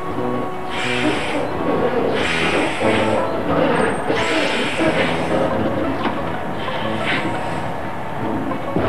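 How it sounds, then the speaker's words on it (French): Repeated bursts of hissing air from truck air brakes, several short releases over a constant low engine rumble, fairly loud and close. "Ce bruit que vous entendez, ce sont mes freins à air comprimé."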